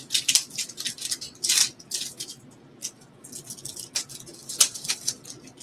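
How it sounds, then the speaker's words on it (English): Fresh lab culture plates are unwrapped from their plastic sleeve, giving close, irregular bursts of crinkling and rustling with brief pauses between them. "I'm going to unwrap now."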